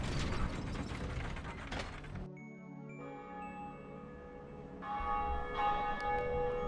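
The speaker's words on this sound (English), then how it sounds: "and finally rang the first bell." In Dark Souls, the first bell is rung: a burst of clanking mechanism and ratcheting gears, then a deep church bell tolls with long ringing overtones, and a second strike swells the sustained resonance near the end.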